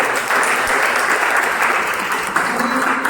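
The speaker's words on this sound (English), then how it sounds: "Guys, give a round of applause for all of them." A Toastmasters meeting audience claps for evaluators called to the stage, a short burst of steady, full applause filling the room without pause.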